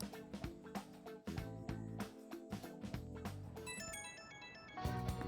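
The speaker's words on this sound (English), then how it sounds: "Oh, my phone's vibrating." In Persona 5 Royal, a phone buzzes and a ringtone-like chime plays over the game's continuous background music, steady and moderately loud.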